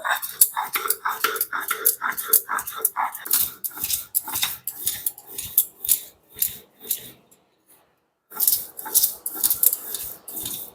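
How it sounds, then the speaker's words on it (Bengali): Spices and salt ground by hand into a paste on a grinding stone, giving a rapid run of scraping, knocking strokes that pause briefly and then resume, close by and with nobody talking. "সুন্দর করে হাতে বেটে নেবো লবণ দিয়েছি তাড়াতাড়ি বাটা হয়ে যাবে"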